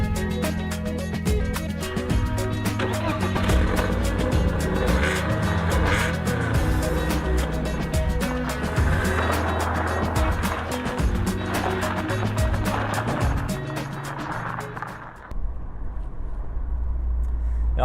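A BMW Z3 roadster drives on the road, its engine note rising and falling through the gears and then dropping away sharply near the end.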